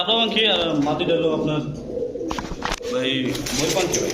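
Male pigeons give vibrating coos close by, rolling throaty calls repeated across the clip, with a break in the middle and a voice talking over them. The birds are fancy breeds such as Pakistani Teddy, Golden, Chila, Gorra and Kaldam pigeons.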